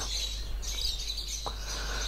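Pet lovebirds, creamino, sable and Fischer's, give short thin chirps over a steady low hum, faint and close, a few scattered calls across about two seconds.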